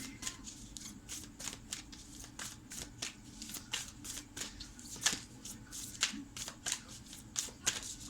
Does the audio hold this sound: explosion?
no